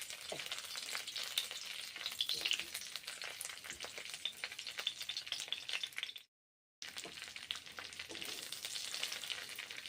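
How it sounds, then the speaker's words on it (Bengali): Broccoli and mung dal frying in hot oil give a steady, dense sizzle with a few stirring scrapes. A brief silent gap falls just after the middle, then the sizzling resumes. "ভালো করে ভেজে নিচ্ছি গরম তেলে"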